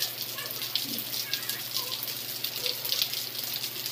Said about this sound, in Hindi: आप देख सकते हैं कितनी ज़ोरों वाली बारिश हो रही है